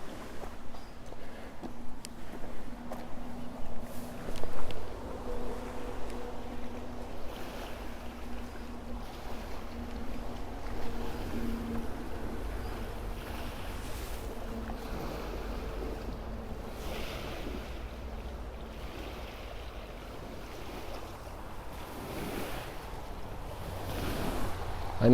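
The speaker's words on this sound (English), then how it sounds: "I know you love the sound of these waves, and with this little dock here, the effect is more powerful." Ocean waves wash against a small dock, a continuous surging roar mixed with gusty wind buffeting the microphone. A louder swell breaks near the five-second mark, then the wash settles into an even, sustained churn.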